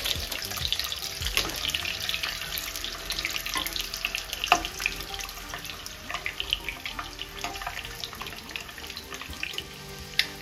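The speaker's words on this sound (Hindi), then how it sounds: "अंडे के साथ साथ आलू भी रख देते हैं ताकि आलू भी फ्राई हो जाए।" Eggs and potatoes fry in a pan for egg curry with a steady, close sizzle and hiss, dotted with small crackles and occasional light utensil taps throughout.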